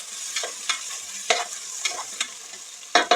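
Sliced onions sizzle in hot oil while browning for mushroom biryani, with a bright steady hiss and several crisp scraping strokes of a spatula at irregular intervals, close by and with no talking.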